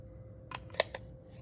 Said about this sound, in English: I cut myself a little tag